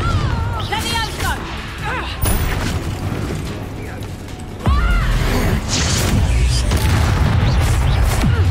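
Confringo fire spell blasts in Hogwarts Legacy combat, heavy booming impacts with crashing debris and mechanical clatter, one loud burst midway, while someone talks over the fighting.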